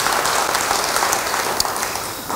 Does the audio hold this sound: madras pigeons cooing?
no